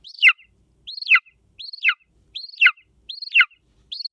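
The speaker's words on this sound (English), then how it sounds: "And we've even got a golden eagle." A golden eagle's sharp, descending call repeats six times at a steady rhythm, each cry clear and fairly close, with silence in between.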